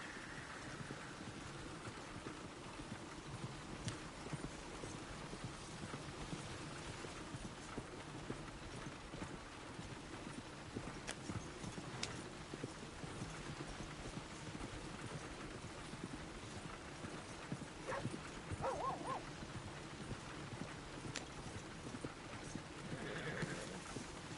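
Horse hooves clip-clop steadily in a PS4 video game, mixed with a whinny, rain-like hiss and ambient game sounds, with no talking over them.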